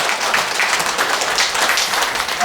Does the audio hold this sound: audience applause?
yes